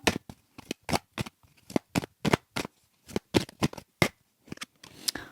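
Tarot cards are shuffled and dealt in a series of sharp, distinct slaps and flicks, irregularly spaced and close, with a softer sliding rustle at the end.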